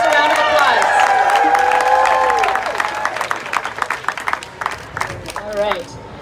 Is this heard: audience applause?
yes